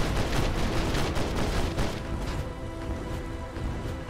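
Rapid gunfire from combat robots in the PC video game War Robots, a dense continuous barrage of shots with crackling bursts, loud and steady throughout.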